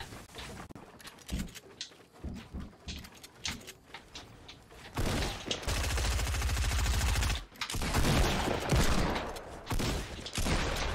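Gunfire in a battle-royale video game firing solo matches: scattered single shots at first, then a dense, loud sustained burst of rapid fire, a brief pause, and another heavy volley, with no speech.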